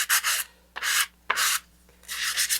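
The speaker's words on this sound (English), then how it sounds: "So now I can sand off the edges." Sandpaper of 220 grit rubs along the edges of a model rocket in four short, close, raspy strokes separated by brief pauses.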